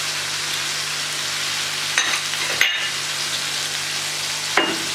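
Ginger garlic paste sizzles with tomatoes frying in ghee, a steady close crackle of hot fat with a few sharp clinks of a spoon against the pan.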